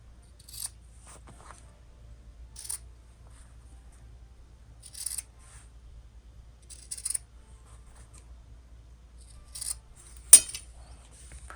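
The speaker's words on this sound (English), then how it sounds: "You're gonna trim the corners here." Scissors trim the corners of sewn fabric in a series of separate crisp snips, about five or six spread out over several seconds, fairly close and quiet against a low steady hum.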